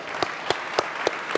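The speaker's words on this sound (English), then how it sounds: "So how about a round of applause for AJ" Audience applause for iCracked co-founder and CEO AJ Forsythe at the SPARK 2016 conference, a steady wash of clapping with a few sharper, louder claps standing out at regular intervals.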